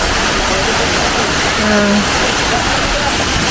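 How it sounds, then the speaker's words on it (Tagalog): A waterfall at Cat Cat Village in Vietnam roars as a constant loud rush of falling water, with faint voices buried underneath. "ito na yung waterfalls"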